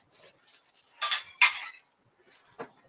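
Plates and dishes handled in a home kitchen while buns are readied for the microwave: a few scattered clinks and clatters, two louder knocks close together mid-way and a lighter one near the end, with no talk.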